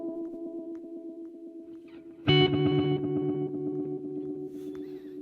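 An electric guitar plays through a Meris LVX delay pedal set to a swirling reverb effect, with a repeated note pattern that swells into a louder strummed chord and rotating, modulated sustain.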